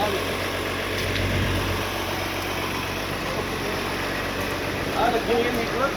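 A tractor pulls a lettuce planting machine across a vegetable farm field, its engine a steady low droning rumble throughout, with faint voices mixed in.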